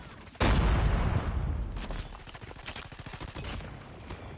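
Rapid bursts of automatic fire from the QQ9 submachine gun in Call of Duty Mobile, a loud close volley followed by quicker, lighter strings of shots with a faint voice in the background.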